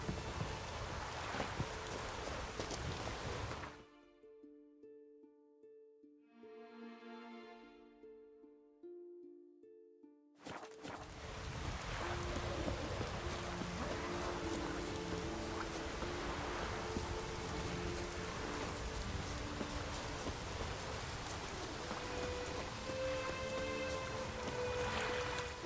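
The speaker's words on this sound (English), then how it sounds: "Raining fucking buckets." Heavy rain pours steadily in The Witcher 3, a dense continuous wash that briefly drops out for a few seconds of quieter tonal game music before the downpour returns at full strength, with no talk over it.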